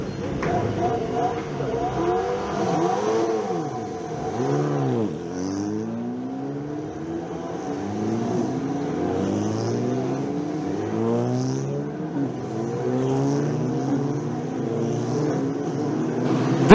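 Alpine race cars of the Alpine Elf Europa Cup firing up and revving at the start of the formation lap at Spa-Francorchamps, a steady blend of engines rising and falling in overlapping sweeps, with a commentator talking over them throughout.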